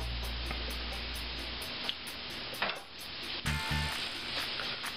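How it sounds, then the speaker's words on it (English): Garlic fries gently in oil in a pan over low heat for a calzone recipe, a soft continuous sizzle with faint ticks and small clinks of stirring. "We're just very gently frying this"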